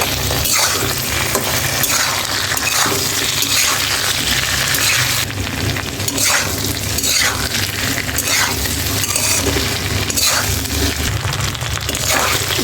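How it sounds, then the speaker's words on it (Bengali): Hilsa fish heads frying in a pan with turmeric and salt, a dense continuous sizzle and crackle, loud and close, with occasional scraping stirs. "বেশ কিছুক্ষণ সময় নিয়ে মাছের বাটা মাথাগুলি ভাজলাম"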